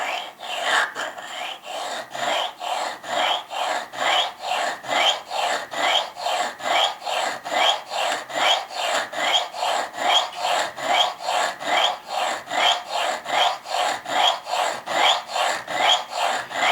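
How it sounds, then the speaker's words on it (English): Spyderco Sharpmaker ceramic rod grinding a choil notch into a knife blade, giving a steady rasping back-and-forth scrape that repeats in an even rhythm from close up. "you put the rod right next to the unsharpened portion, and you just grind very slowly at first"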